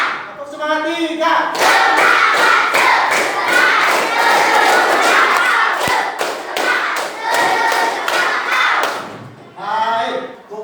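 Fifth-grade schoolchildren in a classroom do a rhythmic group clapping cheer, with sharp, evenly spaced claps in quick runs and brief shouted chanting from the class at the start and end.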